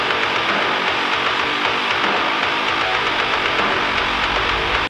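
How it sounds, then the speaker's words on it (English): A modern metal guitar riff pushed through a lo-fi effect, with the low end and top trimmed away so it sounds boxed-in and narrow, playing steadily and loud for about five seconds before cutting off abruptly. "Compare it to the modern guitar lo-fi, it sounds like this."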